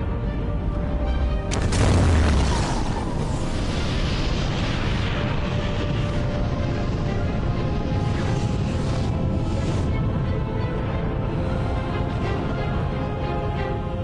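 A deep boom opens a documentary effect of the planet Theia crashing into Earth, followed by a long rumbling roar of the impact that fills the rest of the scene.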